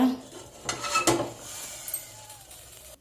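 A lid lifted off a cooking pot of steamed urad dal dough after the gas is switched off, giving a couple of close metallic clanks and scrapes against faint kitchen background.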